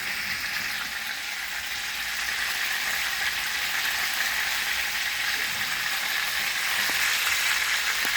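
Small chicken fillets pan fry in hot oil, a loud, close, continuous sizzle with crackling spatter that swells slightly toward the end.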